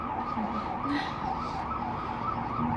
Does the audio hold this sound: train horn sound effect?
no